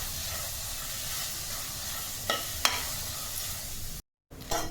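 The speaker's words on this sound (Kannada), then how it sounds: "ಸ್ವಲ್ಪ ಚೆನ್ನಾಗಿ ಇದನ್ನು ಹುರ್ಕೊಳ್ಳೋಣ." Chopped vegetables roast with gram flour in a pan, a low steady sizzle with two brief spatula clicks and a short cut-out near the end.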